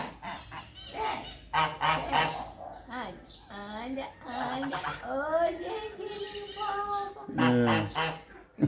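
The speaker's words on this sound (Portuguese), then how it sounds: "Olha os gansos." Several geese honk loudly and repeatedly close by, their calls overlapping in bursts.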